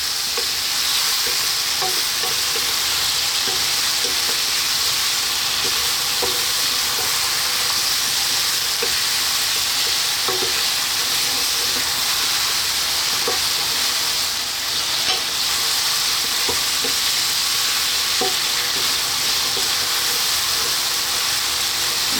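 Lamb stew fries in a pot while it is stirred constantly, a loud, continuous sizzle and hiss with occasional scraping knocks of the spoon, close by and without talk.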